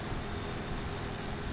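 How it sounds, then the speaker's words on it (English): A slow, old tractor engine in Farming Simulator 17 gives a steady, dense rumbling drone, continuous and fairly loud throughout with no voices. "Bit of a slow tractor this one."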